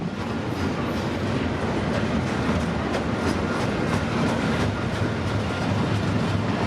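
A CPKC daily container train, number 113, running between the Vaughan, Ontario intermodal terminal and Roberts Bank, British Columbia, rolls past close by with a steady, loud roar of wheels on rails and faint rhythmic clicking throughout.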